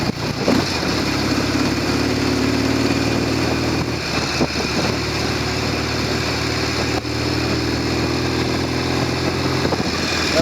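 A Norton Commando 750 motorcycle engine with tickover issues runs steadily throughout, a low droning hum with a slight rise and fall, close and continuous, no voices.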